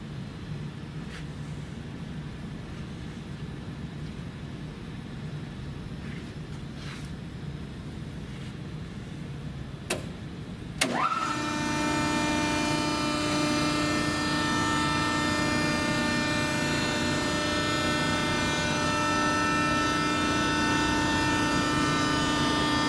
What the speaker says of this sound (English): We'll go ahead and have Keith power the machine up and see it operate.